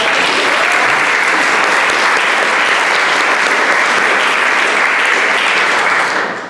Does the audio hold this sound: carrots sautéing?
no